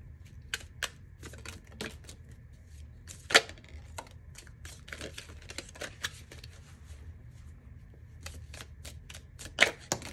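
Tea leaf fortune cards being shuffled in the hands, a run of quick, crisp riffling flicks and taps repeating throughout, close and fairly soft, with no talking.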